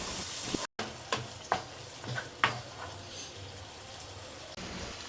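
Tomato paste for red pasta cooking in a pan, a faint sizzle with a few spatula scrapes spaced through it, close but quiet, no talking.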